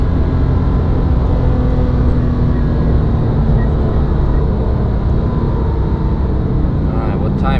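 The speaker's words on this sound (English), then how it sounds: "Some traffic." Steady, loud road traffic rumble near the Nürburgring, a continuous low engine and tyre drone that fills the whole stretch with no gaps or distinct passes.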